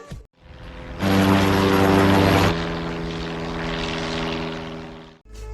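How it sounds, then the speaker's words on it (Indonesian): A loud airplane engine roars steadily on landing with a strong low drone, swelling sharply for a moment before settling into a sustained rumble, then cutting off. "Pada saat pesawat yang menjemput Amar dan Arjun akan mendarat, tiba-tiba digagalkan oleh Safar yang berada"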